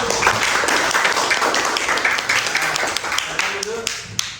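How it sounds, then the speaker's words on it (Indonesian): A classroom of students claps their hands together, a busy, continuous clatter of applause with voices mixed in. "Tepuk tangan dulu"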